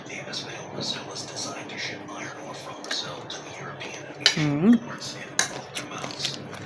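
A meal of rice with roasted fish roe brings close, sharp clinks of cutlery against dishes and soft chewing, scattered across the moment amid quiet talk and whispering.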